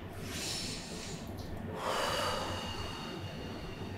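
A person takes slow deep breaths during a breathing exercise, a long airy inhale and exhale heard close, steady and breathy, with no talk.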